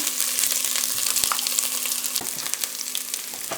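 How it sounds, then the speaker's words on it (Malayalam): Masala sizzles steadily as it fries in a pan for a Ramadan iftar snack, with a constant crackling hiss and a few soft scraping stirs, close and loud, with no voices. "എന്നിട്ട് ഇതൊന്ന് നന്നായി മസാല ഇളക്കി കൊടുക്കുക."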